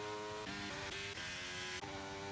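Race car from the F1 23 video game roaring past, a steady high-pitched engine whine with gear shifts and a pitch change as it goes by, loud and continuous with no talk.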